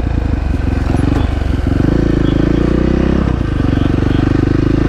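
Beta 500 RS dirt bike fitted with an FMF PowerCore 4 exhaust revs hard and close, a loud continuous throaty engine roar with rapid pulsing firing rhythm and a brief dip midway before surging again.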